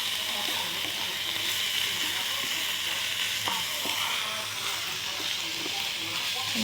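Ingredients for a simple home meal of red amaranth greens and fried egg are tipped into a hot pan and fry with a loud, continuous, even sizzle, close up, with occasional light clicks.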